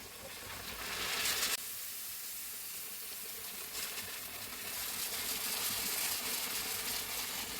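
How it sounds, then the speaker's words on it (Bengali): Hot water poured into a pan of sizzling fried bitter gourd and fried rohu fish for a curry, giving a loud steady hiss and sizzle that shifts and swells partway through, with no talking. "এখন আমি গরম পানি দিয়ে দেব।"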